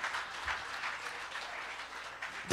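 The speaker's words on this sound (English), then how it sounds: "I just want to give a clap offering to Jesus Christ." Congregation clapping together as a clap offering during a church service, steady dense applause with no talk.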